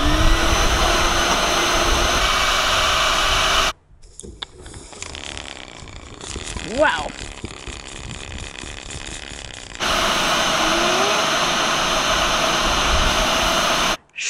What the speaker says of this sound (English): All right, I'll fire up the vacuum.